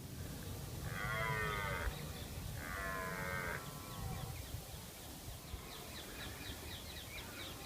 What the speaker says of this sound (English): It's kind of somewhere between a mooing and a howling.